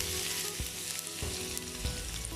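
Small chopped onion frying in heating oil for an oats vegetable cutlet, a steady loud sizzle with a few sharp stirring knocks against the pan, no voices.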